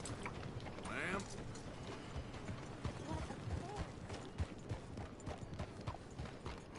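Chestnut horse hooves clip-clop steadily in the Red Dead Redemption 2 video game, a continuous rhythmic trot under dense game ambience and a voice talking.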